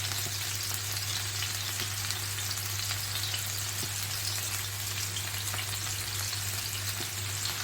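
Chicken tikka sizzles in oil in a pan over lowered flame, a steady dense frying crackle with small pops, close and continuous throughout with no talking.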